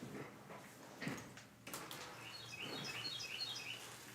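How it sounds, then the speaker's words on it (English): An unidentified bird sings outdoors, a string of faint, quick high chirps and tweets scattered through the second half, with soft patter and rustling underneath. "I don't know what kind of bird that is"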